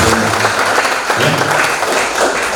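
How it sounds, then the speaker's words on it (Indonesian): A training-session audience claps loudly and continuously, a close, dense wash of hands with no break throughout the short stretch. "Tepuk tangan untuk beliau ya."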